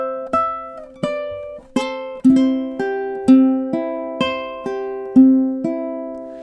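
A ukulele plays a gentle, evenly paced line of plucked notes and double-stops, each attack ringing briefly before the next, close and alone.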